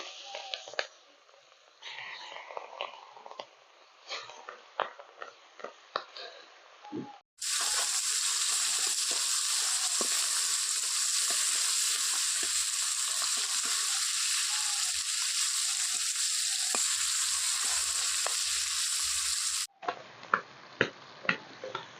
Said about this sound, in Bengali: প্রথমে কিন্তু চিংড়ি মাছগুলো হালকা করে একটু ভেজে নিচ্ছি ডাইরেক্ট কাঁচা দেবো না হালকা একটু জাস্ট ভেজে নেব